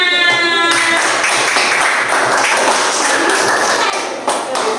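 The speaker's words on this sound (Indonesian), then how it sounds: "tepuk tangan" Students clapping for a group after its classroom presentation, brisk claps close by and continuing throughout, with brief voices at the start.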